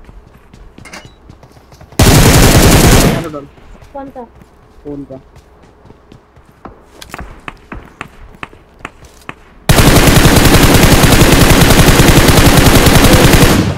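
Bursts of automatic gunfire from the mobile battle royale game PUBG Mobile, two loud sustained volleys, one short and one longer, with players talking between them.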